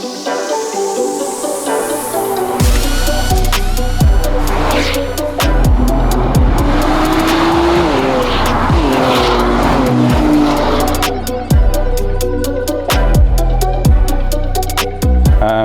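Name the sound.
Nissan Z NISMO engine burbling on downshifts in Sport Plus mode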